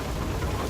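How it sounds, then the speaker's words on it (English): Steady hail and rain pelting down in FAR: Lone Sails, a continuous dense patter with low rumbling underneath, fairly close and even throughout the short stretch. "This hail and rain is certainly must be affecting us somehow."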